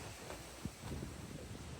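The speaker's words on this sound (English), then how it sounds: "It's really windy today," Gusty outdoor wind buffeting the microphone, rumbling and rustling in uneven surges with a few sharper bumps.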